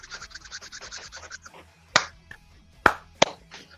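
Two sharp hand claps ring out, one after the other, following a stretch of talking, with a third smaller snap-like hit shortly after.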